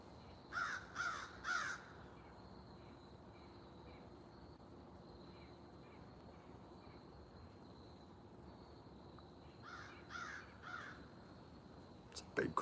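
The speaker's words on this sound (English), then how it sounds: "It's a big crow." Outdoors, a crow caws in two bursts of three harsh calls, fairly distant and faint over steady insect chirring and low background noise, with a brief louder knock at the end.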